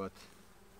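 A brief, faint buzz of honey bees droning at a hive, fading quickly into a low, quiet hum.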